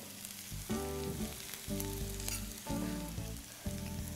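Sautéed onions sizzle in a pan as chilli powder goes in, a steady hiss with loud tonal hum bursts that start and stop in several blocks; close, with no speech.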